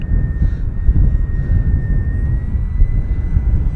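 An FMS Kingfisher RC plane flies in gusty wind, its steady motor drone heard at a distance over heavy low wind rumble that buffets throughout.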